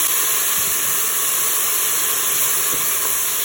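Onions hit the oil in a Cookeo multicooker with a loud, unbroken, steam-like hiss that holds steady from start to finish.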